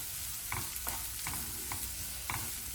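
Shredded cabbage with curry leaves sautés in a pan with chopped onion, giving a steady sizzle broken by regular scraping stirs of a spoon, close and continuous.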